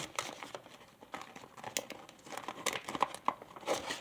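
Paper crinkles and creases in quick, close rustling bursts as a sheet is folded into a paper pistol, with no voice heard.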